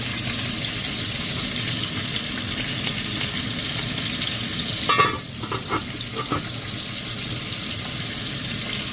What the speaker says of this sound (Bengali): যেদিকে মাছ ভাজি হচ্ছে